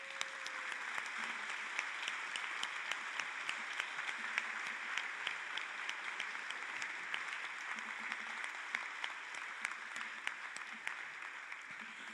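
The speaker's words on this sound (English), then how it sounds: "give our applause to these 5 great candidates" Audience at an Ottawa mayoral debate applauds the five candidates, a steady, sustained wash of many hands clapping from a seated crowd for the whole stretch, with a few sharper claps standing out.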